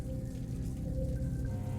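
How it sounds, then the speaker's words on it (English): Steady rain ambience played as background during a tabletop Cyberpunk Red game session, a continuous soft patter and wash of drops at moderate level with no pauses. "Sorry for constant rain."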